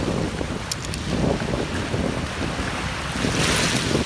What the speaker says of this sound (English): as the waves come in, it's going to drag these shells down